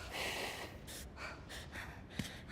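A climber character in the video game Cairn breathes hard, with a run of rhythmic, raspy gasps and exhalations over a steady background hiss, close and fairly faint.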